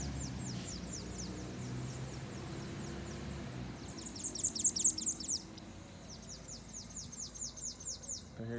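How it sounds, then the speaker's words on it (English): Birds chirping outside a rural country church in St. Andrew Parish, Barbados: repeated clear tweets and trills from nearby songbirds in bursts over quiet outdoor ambience, with a louder run of calls in the middle. "Can hear the birds chirping."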